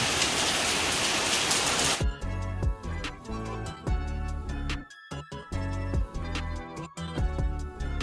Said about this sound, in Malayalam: എന്താ വീണ്ടും മഴ